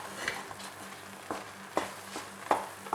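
Spoon stirring semolina and sugar in a pan for rava kesari, several soft scraping strokes at irregular intervals over a faint background hiss.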